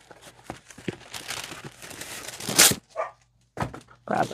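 Indoors during book repair with wax paper, a dog gives a couple of short barks near the end, mixed with paper crinkling and tearing.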